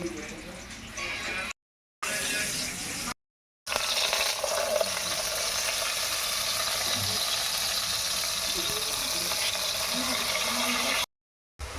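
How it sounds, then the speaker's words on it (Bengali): Pumpkin pieces fry in a pan of oil while a family birthday meal is cooked, giving a steady hissing sizzle with voices talking nearby and a few short breaks in the sound. "চলো এখন কুমড়ো ভাজা হচ্ছে।"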